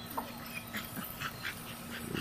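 A puppy whimpers at a game dog kennel, a few soft high whines and yips spaced over a quiet hum, close and faint with no talk.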